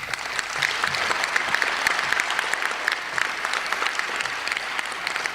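A large audience at a talk claps continuously in the distance, a steady, moderately faint wash of many hands with no voices standing out.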